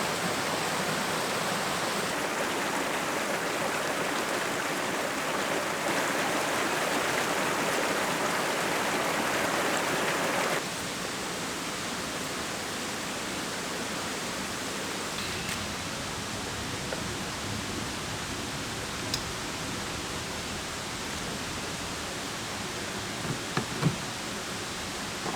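A creek runs steadily in the open, a continuous broadband rush of flowing water with no voices, shifting slightly softer partway through as if the vantage changes, with a few faint clicks near the end.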